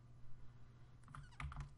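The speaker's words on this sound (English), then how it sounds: "with the left arrow key on my keyboard" A few soft taps on the left arrow key of a computer keyboard, arriving in a quick cluster of light clicks over a low background hum.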